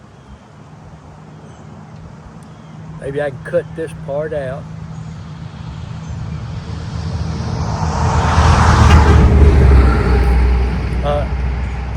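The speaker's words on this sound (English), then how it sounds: "We're going to have a truck come by, just mess up our sound a little bit." Truck driving past outdoors, its low engine rumble gradually swelling and peaking near the end as it draws close, with someone talking over the start.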